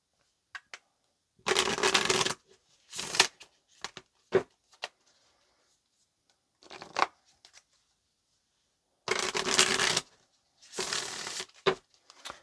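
Tarot cards being shuffled in several loud riffling bursts, some lasting about a second, separated by quieter taps and short pauses, close up with no talk.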